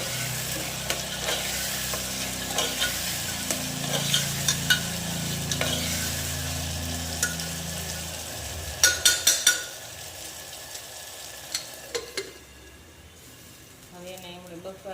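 Chili, tomato, ginger and garlic crushed together and sizzling in a pan of hot oil for masoor rice, with steady frying hiss, a few stirring clinks and scrapes, fading toward the end, with faint talk.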